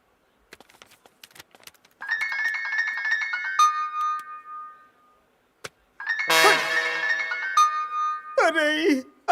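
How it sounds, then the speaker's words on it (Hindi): A mobile phone ringtone for an incoming call plays as two loud, close bursts of bright electronic melody separated by a pause, with a brief voice at the very end. "अरे अंजनी काहे खातिर फोन करत आड़ी?"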